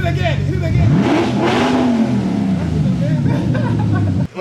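An Audi RS5 V8 with its exhaust left off and Z-pipe plus H-pipe headers fitted revs hard and raw, the pitch sweeping up and then falling away in one long, loud pull, with voices talking over it.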